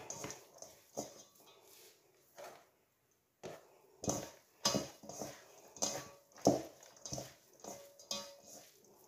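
Potatoes and meat for a tart are mixed by hand in a bowl, giving a series of irregular, close squelching and clattering bursts separated by short pauses.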